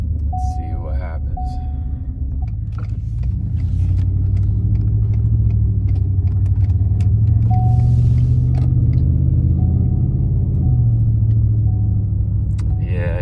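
A 2015 Ford F-150 with a Thrush muffler drones as a steady low exhaust rumble at highway speed, heard from inside the cab, rising slightly partway through and steady throughout.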